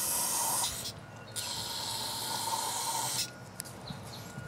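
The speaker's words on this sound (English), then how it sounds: "Spray some more carb cleaner in there." Carb cleaner sprays into the cylinder of a small engine with a stuck pull cord, giving close, loud aerosol hisses in two long bursts separated by a brief pause.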